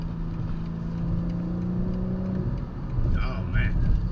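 A 2021 BMW M4's engine rumbles under hard acceleration, a loud, steady low drone from inside the car with a rising note near the end, while someone talks over it.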